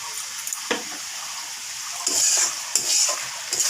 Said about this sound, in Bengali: বারবার করে একটু করে করে নেড়ে দিচ্ছিলাম কেননা না যাতে নিচে লেগে না যায়